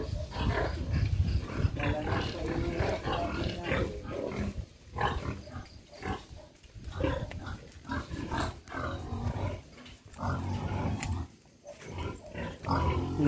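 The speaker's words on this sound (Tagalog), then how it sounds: "Ang ingay ng baboy." Pigs grunting and squealing loudly on a farm at dusk, a dense, continuous chorus of rough snorts and cries nearby, with occasional louder bursts throughout.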